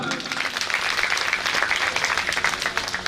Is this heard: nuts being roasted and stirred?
no